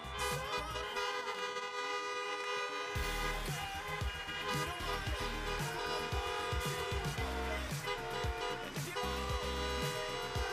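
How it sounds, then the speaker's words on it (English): Many car horns honk together at a drive-through high school graduation, long overlapping blasts of different pitches sounding continuously and loudly for the whole stretch. "Everybody put your hands and honk your horns for Alina Moore."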